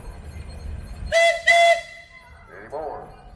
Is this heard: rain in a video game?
no